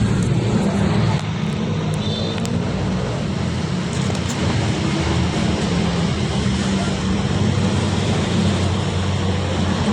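A Honda Wave Alpha 100 motorcycle engine runs continuously after a one-click start, a loud, close, steady low drone with no talking.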